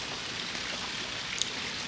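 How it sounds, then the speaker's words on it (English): Rain falls in Turks and Caicos as a steady, even hiss of drops, moderately loud and unbroken, with no voices over it. "So it just started raining while we're going to the shoot."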